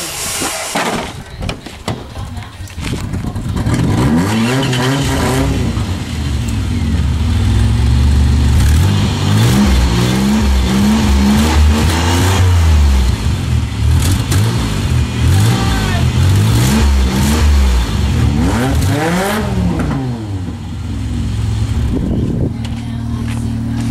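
A car fitted with an aftermarket Flowmaster muffler revs repeatedly up close, its exhaust swelling and falling through several loud blips over a rumbling idle, with no voices.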